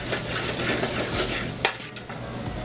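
Food sizzles steadily in a frying pan while it is stirred, with a sharp scrape or clatter of a utensil against the pan partway through; a close, continuous frying hiss with no talk.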